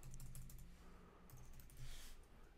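A computer keyboard is typed on, with quick soft key clicks in short bursts and a brief pause. It is quiet and close, with no talking.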